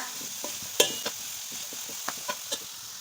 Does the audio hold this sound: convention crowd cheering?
no